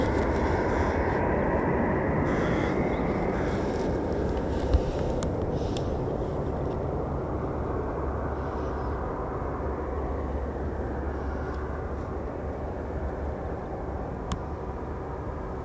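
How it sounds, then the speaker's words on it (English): Eurofighter Typhoon jets arriving at RAF Coningsby, a broad, steady low engine rumble at a distance holding throughout, with faint wind noise and occasional small clicks. "Here come the inbound Typhoons now."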